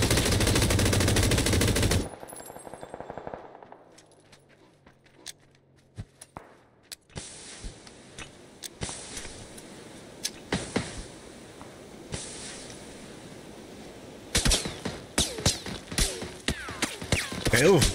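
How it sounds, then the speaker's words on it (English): Bursts of M249 machine gun fire in a video game, loud and sustained at the start, then sparse sharp shots and short volleys scattered through a quieter stretch before dense firing returns near the end. "Oh god, they're shooting right above our head."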